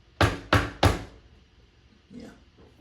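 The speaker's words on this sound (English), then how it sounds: "Who knocks like that?" Three sharp, close knocks on a door land in quick succession, followed by quiet with a faint, brief shuffle near the end.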